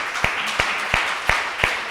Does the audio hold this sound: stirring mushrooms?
no